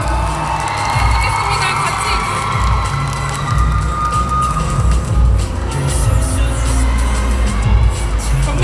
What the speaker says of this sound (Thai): ขอเสียงปรบมือด้วยครับทุกท่านครับ